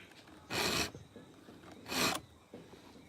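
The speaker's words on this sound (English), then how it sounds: "Taking out the gullet, we're doing freaky filing here." Two slow rasping file strokes across a chainsaw chain gullet, each lasting about a third of a second, close and clear against a quiet background, with a faint lighter scrape after.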